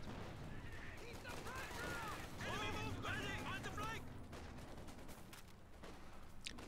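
Raketenwerfer anti-tank gun firing in Company of Heroes 2, a run of rapid crackling shots and distant battle impacts under steady speech, quiet overall.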